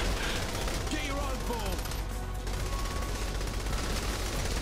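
Gunfire from the Saints Row 3 video game crackles in a dense, continuous stream, loud and close, mixed with other game noise and with players talking over it.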